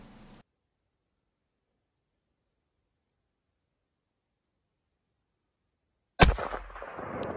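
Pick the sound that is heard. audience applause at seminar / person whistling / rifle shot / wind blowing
rifle shot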